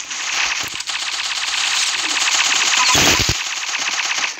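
Rapid automatic gunfire in the Roblox shooter Arsenal, a loud, steady stream of shots running nearly the whole time, with a brief pause early and a sharper burst near the end.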